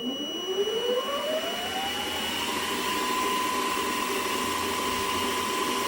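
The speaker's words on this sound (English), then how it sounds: "Milling machine, switching it on, just plug it in here, plug the power supply back in," A Sieg SX2 milling machine starts up and runs, its motor whine rising in pitch over the first couple of seconds and then settling into a steady mechanical hum with gear noise, close and continuous throughout.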